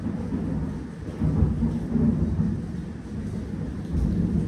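Heavy rain with thunder, a continuous low rumbling roar that swells and fades without a break, loud and close, with no voices over it.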